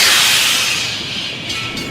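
Steam locomotive venting a loud, steady rush of hissing steam that slowly thins out over two seconds, close by with no voices.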